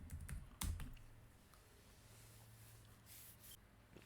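Someone types a short npm install command on a computer keyboard: a few quick key taps close by, then quieter scattered clicks over a faint steady background hum.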